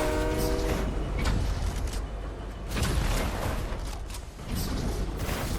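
A moving train in the Fortnite battle royale game rumbles and clatters loudly and continuously, with a brief horn-like tonal blare at the start and dense mechanical noise throughout.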